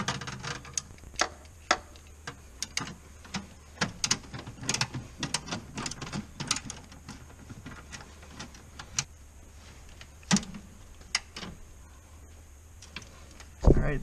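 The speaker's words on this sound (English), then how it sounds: "I'm going to tighten those two bolts down on the low side back here that are hard to get to. 12 millimeter swivel." A ratchet with a 12 mm swivel socket tightening valve cover bolts on a 6.0 engine, sharp irregular clicks and short ratcheting bursts, close and fairly loud over a quiet workshop background.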